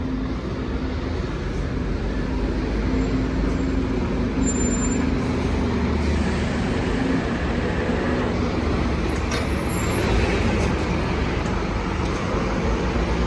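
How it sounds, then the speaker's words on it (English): A tour bus pulling in on a busy London street gives a steady, loud diesel rumble amid dense traffic noise, with a faint air-brake hiss near the end and no talking. "All these tour buses, they want to pull in."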